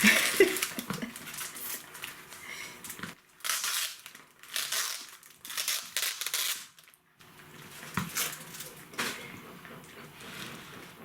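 A cardboard parcel box holding flowering orchids, five days in the post, is opened up close, with bursts of crinkling and crushing packaging separated by brief pauses.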